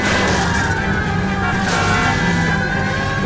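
Car engine and tires in a police chase from the game LA Noire, a loud continuous motor drone with a wavering siren-like tone over it.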